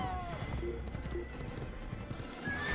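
A horse in Assassin's Creed clip-clops at speed and lets out whinnies over a steady game backdrop, its hoofbeats dense and fairly loud through the short stretch.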